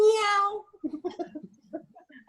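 A cat meows in a drawn-out, rising-and-falling cry at the start, close and clear, followed by quieter people talking softly for the rest.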